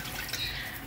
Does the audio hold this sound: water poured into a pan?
yes